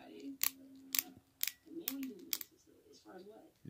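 A ratcheting multi-tool screwdriver with two flat tips and a Phillips tip gives several sharp, isolated clicks close by, while someone talks between them.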